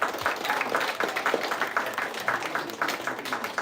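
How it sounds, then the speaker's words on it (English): Audience applause rising after a speech at a public speaking competition, steady dense clapping from a crowd with no talk over it. "Let's get a huge round of applause for Advaiti."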